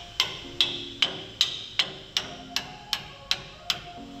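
Eleven sharp metallic taps at a steady, even pace, each ringing briefly, close by with no talking.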